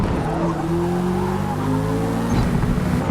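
A race car in the video game Forza Motorsport roars under hard driving, its engine note shifting as tires squeal and skid, loud and close for the whole stretch.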